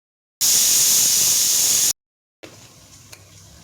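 Carrots, beans and knol-khol hitting hot oil in a pan, a loud bright sizzle that holds steady for about a second and a half, stops, then returns as a quieter hiss with a few small pops.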